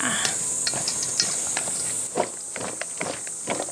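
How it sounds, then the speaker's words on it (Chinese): Smashed cucumber salad with plenty of garlic and chili being stirred in a bowl, quick rhythmic clacking and scraping of utensil against dish, close and moderately loud. "蒜的黄瓜耶，给它搅拌一下"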